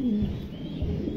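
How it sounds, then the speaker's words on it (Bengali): Mundi pigeons give a brief, low, soft coo close by, a single short murmuring call. "প্রত্যেকটা কবুতরই দেখার মতন।"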